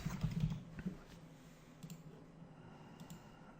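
A computer keyboard is typed on briefly in a short, quiet burst of close key clicks early on, then only faint room tone follows.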